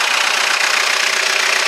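Peugeot Partner engine idling with its cover off during timing belt work, a loud, steady, close mechanical whir and rattle that stays constant throughout the brief stretch.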